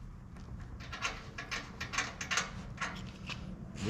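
Hose adapter being pushed and twisted onto an RV's Blackstone griddle attachment with a 10-foot hose, giving a run of quiet, close plastic clicks and ratcheting scrapes in quick irregular bursts.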